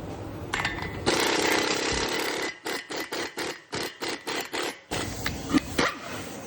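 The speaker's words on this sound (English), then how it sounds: "let's go and bust this axle nut loose" Impact wrench busting loose the front axle nut on a 2017 Lexus RX350, a loud close sustained buzz followed by a rapid series of hammering bursts and rattling pulses, no talking.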